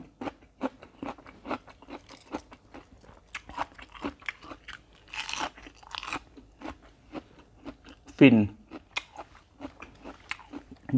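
Homemade sausage eaten with sticky rice and fresh vegetables, chewed close to the microphone: a steady run of crisp crunching bites and chewing with short gaps between them, plus a couple of louder bursts, and no talking.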